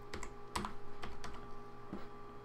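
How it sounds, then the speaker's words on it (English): Quick, fairly quiet clicks of a computer keyboard as someone types during a Feed The Beast Minecraft session, with several close keystrokes in uneven bursts and no talking. "what am I typing?"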